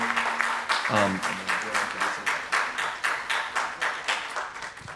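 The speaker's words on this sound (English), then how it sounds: "Can we get a round of applause for the panelists, please?" Audience at a panel event applauds the panelists with steady, rhythmic clapping that swells in regular pulses, fairly close, while a voice speaks briefly near the start.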